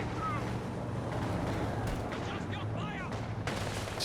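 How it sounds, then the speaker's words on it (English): Anti-tank gun fire in Company of Heroes 2 sounds through a dense, continuous battle din of booms and rumbling, with sharp cracks near the end and someone commenting over it. "Anti-tank gun gets one shot through."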